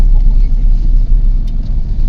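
Loud, close car rumble as a new family car runs, a steady low drone with no clear revving, while people talk over it.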